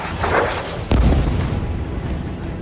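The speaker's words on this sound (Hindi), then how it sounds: "मिसाइल धमाके पहले की तरह हो रहे थे।" A heavy missile explosion in Gaza bursts out suddenly and rolls away, followed by a lingering rumble under dense, noisy background.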